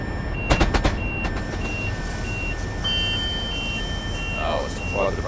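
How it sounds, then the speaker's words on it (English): Repeating electronic warning beeps from a train's service brake intervention alarm in Train Simulator Classic, sounding at a steady rhythm over a low rumbling cab ambience, with a short burst of clatter near the start. "This is a service brake intervention."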